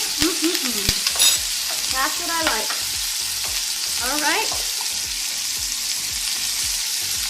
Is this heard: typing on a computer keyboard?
no